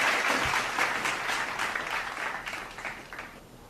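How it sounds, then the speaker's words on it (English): Applause for a Christmas giveaway winner, a small group clapping briskly and close, loudest at first and then thinning out as the claps taper off. "Let's give her an applause."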